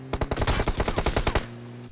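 Rapid automatic gunfire in the mobile game PUBG Mobile, a single fast burst of about a dozen sharp, evenly spaced shots, loud and close, with no talk.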